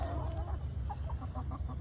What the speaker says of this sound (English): These are not all my chickens.